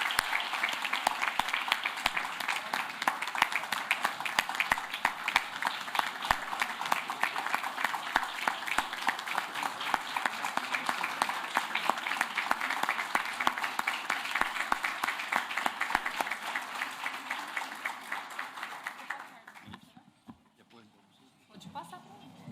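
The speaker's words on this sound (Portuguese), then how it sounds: "uma salva de palmas" Sustained audience applause fills a public hearing on civil code reform at a Bahia court, dense clapping holding steady for about nineteen seconds before fading out.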